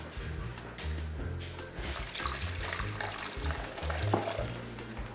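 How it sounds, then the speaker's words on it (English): Water poured into a well of durum wheat semolina and ordinary wheat flour in a wooden dough trough, a continuous close splashing and trickling with faint wet stirring, no voices. "She makes a well and adds some water."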